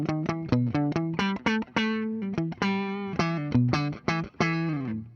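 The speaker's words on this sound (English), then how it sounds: "This neck pickup almost has a out of phase like tone to it." A 1983 Gibson Spotlight electric guitar on its neck pickup, played through a slightly distorted amp, a quick run of picked notes and chords with a warm, somewhat hollow tone.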